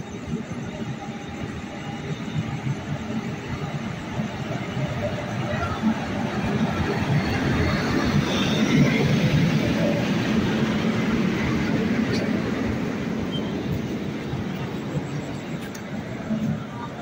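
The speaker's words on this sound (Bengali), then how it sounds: "এবার আসছে ভাগলপুর রাঁচি বনাঞ্চল এক্সপ্রেস।" The Bhagalpur–Ranchi Vananchal Express rolls into Jajigram station in Birbhum, a low rumbling rattle of wheels and wagons that swells to a peak midway, then gradually eases.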